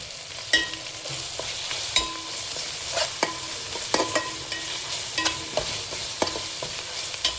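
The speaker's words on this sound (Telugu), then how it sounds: "పుదీనా, పచ్చిమిరపకాయలు వేసి ఒకసారి ఫ్రై చేసుకోవాలి" Mint, green chilies and ginger-garlic paste sizzle in a pan while a spatula stirs and scrapes, knocking against the metal in irregular clinks over a continuous fry hiss, with no voices.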